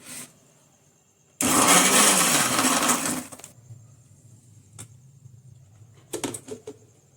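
Kitchen blender whirring through an Oreo shake, a loud two-second burst of high motor roar, followed by a few light clinks and knocks.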